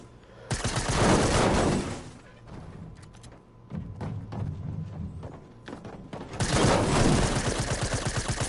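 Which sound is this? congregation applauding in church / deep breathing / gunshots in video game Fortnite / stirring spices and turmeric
gunshots in video game Fortnite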